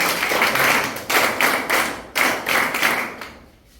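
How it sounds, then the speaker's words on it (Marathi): Classroom applause for a student, several bursts of group clapping in close succession, fairly loud and near, fading out at the end. "टाळ्या प्रणयसाठी"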